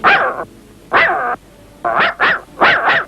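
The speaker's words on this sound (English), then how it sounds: "what are you barking at?" A cartoon dog barks loudly and close, several sharp barks in irregular bursts, some doubled in quick succession, with no talking.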